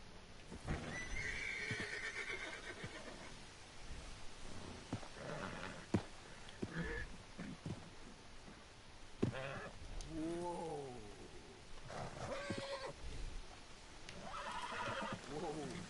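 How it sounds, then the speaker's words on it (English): A horse in Red Dead Redemption 2 whinnies repeatedly with rising and falling cries, alongside clip-clopping hooves and occasional thumps, set against a faint outdoor game ambience while a voice talks intermittently. "This is your temporary horse."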